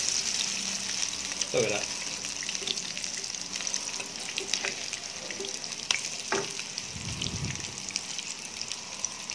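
Corn fritters fry in a pan for a Balinese perkedel jagung recipe, giving a steady, close crackling sizzle with a few soft clatters, while a person speaks briefly over it.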